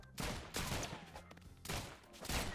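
Gunfire from a modded Rounds video game comes in loud, sharp bursts of several shots, broken by short gaps and repeating in quick volleys.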